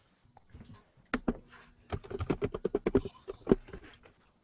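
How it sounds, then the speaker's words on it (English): Rapid clicking keystrokes on a computer keyboard in a TV newsroom, a short burst of close, crisp typing with no speech over it. "Someone typing?"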